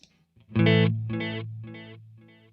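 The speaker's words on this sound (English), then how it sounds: "Go to tape delay" Electric guitar through the tape delay of a LEKATO Tank-G effects pedal: one sustained distorted note, then repeats about half a second apart that grow fainter and warmer, each slightly smeared and imperfect, under a steady low hum.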